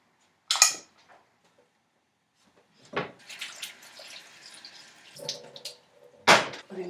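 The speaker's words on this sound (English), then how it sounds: "Putting water and salt." Brief splashes followed by water pouring and gurgling into a cooking pot, with intermittent bursts and pauses, close by and fairly quiet.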